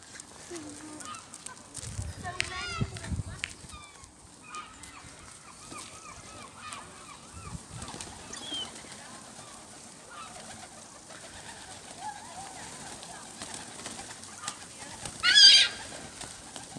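Hungry pigeons and other birds being fed in Stanley Park: soft coos, flutters and scattered calls at low volume, with a brief louder honk-like cry near the end.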